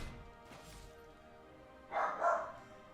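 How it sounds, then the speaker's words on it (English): A pet dog gives two short barks near the end, moderately close, after a stretch of quiet room tone. "she barks at, like, most things"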